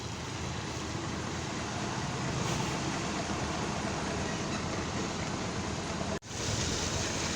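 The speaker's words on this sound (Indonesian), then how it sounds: "Dan di hujan masih kercih nih." Steady, dense hiss of rain falling at the Purabaya Bungurasih bus terminal exit, continuous and even, briefly cutting out near the end before resuming.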